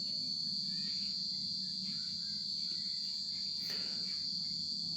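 Crickets chirp in a steady, dense, high-pitched drone that runs the whole time at moderate volume, with a faint low hum beneath and no voices.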